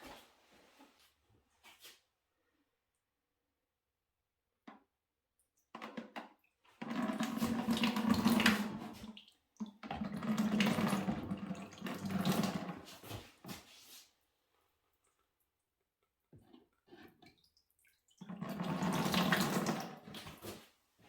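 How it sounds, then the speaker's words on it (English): Liquid pottery glaze pours from a jug in several separate bursts, each a few seconds of gurgling, splashing flow, with quiet pauses and small clinks between them. "So I'm thinking the jug, and let's pour it over."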